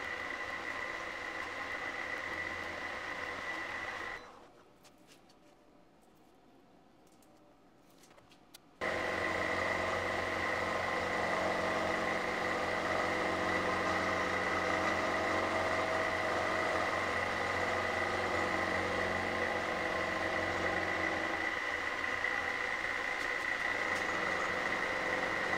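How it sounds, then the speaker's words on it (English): A milling machine cuts metal with a ball nose end mill on a mini pallet part, a steady droning whine with a strong tone that cuts out briefly partway through, then resumes and runs on evenly. "I'm using a ball nose end mill here so I can keep the radius down in the bottom of the corner."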